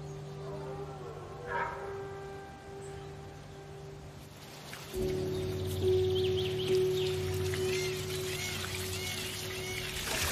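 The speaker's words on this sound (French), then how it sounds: "ça, c'est de l'eau de pluie que je récupère" Collected rainwater being poured outdoors, a steady trickling flow that starts abruptly midway and continues, fairly quiet, with faint background sounds before it.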